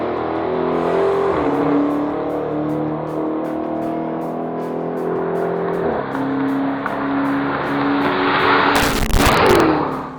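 A Dodge Hellcat with a supercharged 6.2-liter V8 drives hard, its loud engine note rising and falling through gear changes with crackling pops, close and alone, ending in a sharp burst of noise.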